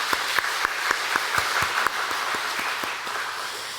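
A church congregation claps together in thanks, a loud room-filling applause with distinct individual claps standing out in a loose rhythm, gradually thinning toward the end.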